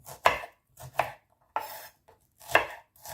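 Whole tomatoes are chopped coarsely with a knife on a board, five or six distinct close thuds at an irregular, unhurried pace with short silences between cuts and no speech.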